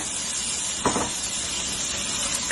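Marinated chicken roasting in ghee in a pan gives a steady, even hiss of frying, with one short louder spitting burst partway through.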